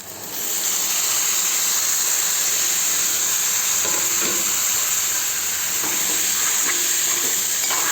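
Tomatoes fry for a curry in a hot pan, giving a loud, steady sizzle and hiss that runs unbroken from start to finish, with faint stirring scrapes beneath it.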